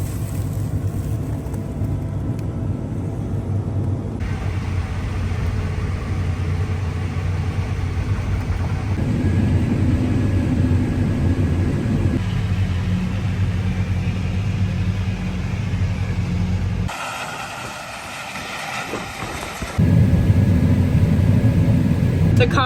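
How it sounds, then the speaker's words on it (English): A John Deere combine harvester fitted with a 12-row chopping corn head harvests corn. Its loud, steady engine drone and machinery rumble run continuously, dipping briefly before surging back near the end. "we have a 12-row John Deere chopping corn head"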